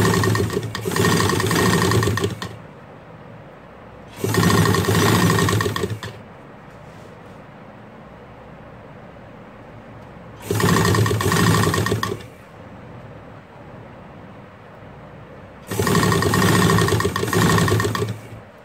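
A sewing machine stitches fine lace around the edges of a fridge top cover, running in four loud steady bursts of about two seconds each, separated by quiet pauses, close by with no voices.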